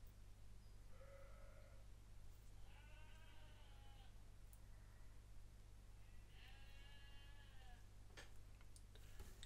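Sheep bleat several times in the distance, two clear calls around one and three seconds and a longer one near seven seconds, over a steady low electrical hum with no talking.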